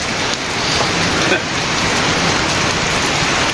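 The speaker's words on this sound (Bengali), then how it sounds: "কথা নেই বার্তা নেই খালি দেখো বৃষ্টি" Steady rain falls over a village beside open jute fields, a dense, even hiss of drops that stays loud and unbroken from start to finish with no voices.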